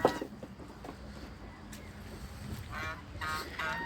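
Ducks grazing outdoors on a farm quack and honk in short bursts, a few loud calls near the start and end, with a voice murmuring in the background.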